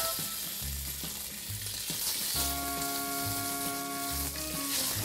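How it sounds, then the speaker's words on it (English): Pork sausage sizzles in olive oil in a pot, a steady crackling fry interrupted by several low stirring scrapes, with no voices heard. "put a little bit of olive oil in our pot, and we're gonna start letting the pork cook while we do the rest"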